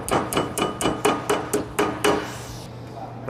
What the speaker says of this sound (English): We can bend it over the rest of the way with a hammer.